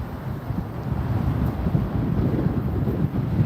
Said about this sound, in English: Extremely strong gusting winds right now.